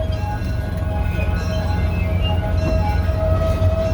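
A train arriving at a depot at a Jeep festival, a heavy low rumble with a steady tonal whine and faint metallic clinks, continuous and close throughout.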